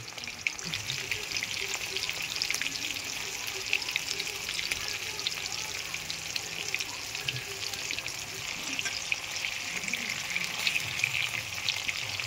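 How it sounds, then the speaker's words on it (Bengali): Prawns frying in a pan for a homestyle prawn malai curry, giving a steady, dense sizzle that runs unbroken and fairly loud throughout, with no talk over it. "চিংড়িগুলো দিয়ে দিলাম। এবার লাল লাল করে একটু ভেজে নেব।"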